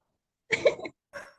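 Two short coughs from children, the first a rough burst and the second quieter, separated by a brief silence.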